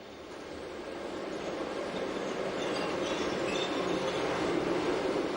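A Rhaetian Railway metre-gauge train moves through Chur station, its wheels rumbling and squealing on the rails in a steady, building roar heard from on board, with no voices.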